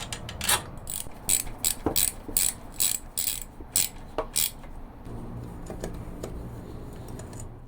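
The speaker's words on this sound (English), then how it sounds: "the bolts are tightened according the diagram" A ratchet wrench clicks rapidly as bolts are tightened on a Honda engine, loud close bursts of metallic ratcheting separated by short pauses, then fading to quieter handling noises.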